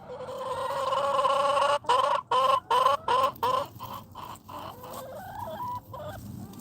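Chickens cluck in a coop in a run of loud, close, choppy calls with short gaps, then trail off into softer, scattered clucks and murmurs.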